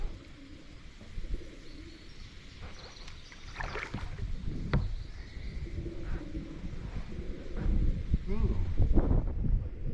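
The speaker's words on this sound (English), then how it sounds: "Pigeons. You hear the pigeons?" Pigeons coo softly in low, repeated calls amid water sloshing and paddling sounds on Big Creek, with people talking nearby.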